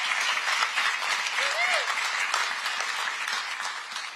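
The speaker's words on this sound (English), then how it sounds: "Would you please give our congressional delegations a round of applause?" An audience at a political event for the Hudson River project applauds the congressional delegations with loud, sustained crowd clapping and a faint voice or whistle rising briefly above the din.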